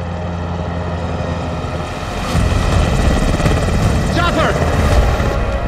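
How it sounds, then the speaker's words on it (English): A helicopter's rotor thumps loudly and steadily nearby, the chopping growing heavier partway through, with a brief higher whine near the end. "Chopper!"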